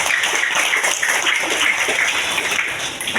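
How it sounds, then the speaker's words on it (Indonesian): Applause at a charity aid handover ceremony in Mataram, a loud, continuous patter of many people clapping together with a droning background tone. "tepuk tangan untuk Basnas"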